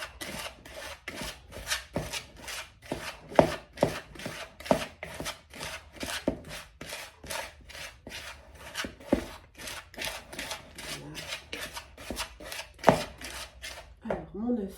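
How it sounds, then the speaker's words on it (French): A whisk beats ingredients for a sweet burger in a bowl with quick, regular scraping strokes, close and rhythmic, and a voice speaks briefly near the end. "Donc, je vais commencer à travailler au fouet."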